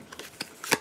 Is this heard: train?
no